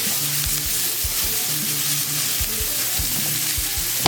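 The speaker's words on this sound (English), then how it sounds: "what we want to do is get that shallot cooked a little bit before we add our other stuff to the party" Thinly cut shallot frying in a pan with a loud, steady sizzle, while soft rhythmic clicks from stirring tap along under it and no one speaks.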